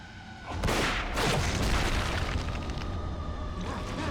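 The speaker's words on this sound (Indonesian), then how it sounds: "Ini kayaknya pakai pistol deh." Sharp pistol shots and heavy booming impacts in a video game boss fight against Ruvik, a loud burst near the start followed by a dense, rumbling game soundscape.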